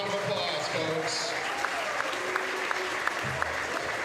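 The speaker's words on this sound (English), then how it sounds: "Let's give a big round of applause, folks." A round of crowd applause for the officials at a high school boys basketball district game, steady and moderate in a gym, with a voice speaking over part of it and a few sharp claps standing out.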